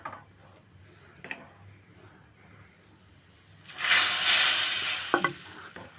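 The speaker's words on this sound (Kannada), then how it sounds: "ಇವಾಗ ನಾವು ರವೆ ಹಾಕೋಣ" Semolina (rava) tipped into a hot pan with ghee, cardamom and cloves for kesari bath, bringing a sudden loud, broad hiss and sizzle that holds for about two seconds, with a couple of light taps near the end.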